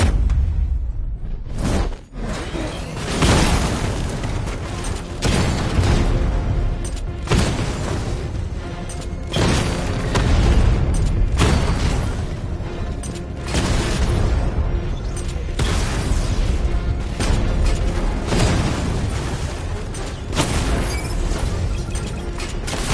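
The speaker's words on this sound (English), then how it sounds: "Your 60mm cannon will penetrate these heavily armored units, but it'll take a few direct hits to destroy them" In the Batman Returns video game, a 60mm cannon fires repeatedly while heavy booms and explosions land at a steady pace, loud and dense, with whooshing blasts filling the whole stretch.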